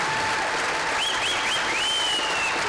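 A school spring concert audience applauds steadily, a dense, even wash of clapping close by, with a few whistles rising over it and no talking.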